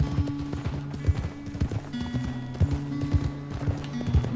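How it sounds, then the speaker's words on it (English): Horses galloping in Red Dead Redemption 2, hooves pounding in a fast, steady clip-clop rhythm, loud and close throughout, with tonal music or ambience underneath. "Man, look at us. We're already here riding our horses pretty good."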